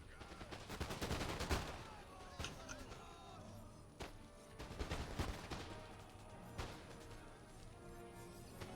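Massed musket line fire rattles through a battle in the video game Empire: Total War, with volleys of sharp cracks bunched in bursts and softer scattered shots between them.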